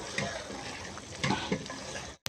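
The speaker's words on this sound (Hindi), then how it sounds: "तकरीबन 5 मिनट तक इसको इसी हिसाब से भून लेंगे।" Beef karahi sizzles and fries in a pan while being stirred, with a steady crackle broken by a few louder scraping stirs, close and alone before a brief cut.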